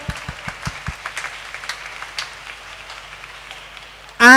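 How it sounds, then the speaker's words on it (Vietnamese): Children applaud during a Lenten retreat session for young parishioners at a church, starting with a few distinct slow claps that blend into a steady, moderate patter of many small hands, then an abrupt loud sound right at the end. "Vỗ tay các con."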